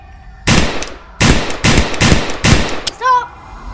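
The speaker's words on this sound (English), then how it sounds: "this is the first time I've used a gun" A firearm fired in close, loud bursts during a post-apocalyptic action scene, several sharp volleys of rapid shots separated by brief pauses, ending with a short metallic ring.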